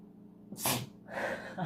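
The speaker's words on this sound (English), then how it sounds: "I think that's the first time he's seen me sneeze." A single sharp human sneeze bursts out close by after a quiet moment, followed by a soft breathy exhale.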